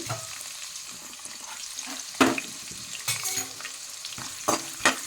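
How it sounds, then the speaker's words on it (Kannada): Onion, garlic and green chilli fry in a pan with a soft continuous sizzle, punctuated by a few louder bursts and clinks as they are stirred, close up and with no talking. "ಇದನ್ನು ಸ್ವಲ್ಪ ಫ್ರೈ ಮಾಡ್ತೀನಿ"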